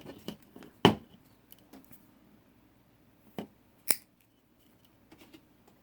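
A single sharp snip as the tag end of monofilament fishing line is trimmed after joining two lines, followed by a few faint clicks and handling sounds in a quiet room.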